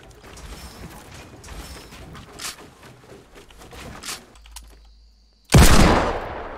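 Gunfire in the video game Fortnite: rapid bursts of shots and mechanical weapon clatter through the first half, a brief quiet gap, then a loud sharp blast that rings out and slowly decays.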